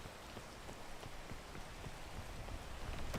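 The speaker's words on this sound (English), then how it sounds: "we lament the fact that it is raining." Steady rain patters on surfaces in the video game PEAK, a continuous even hiss of drops with no voices over it.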